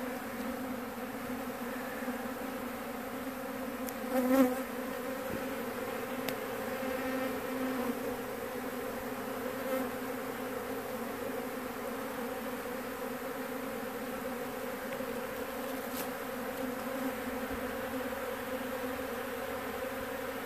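Honeybees buzzing around a hive box after a removal, a continuous mid-pitched drone from many insects with occasional louder passes close by; a brief spoken phrase is heard once.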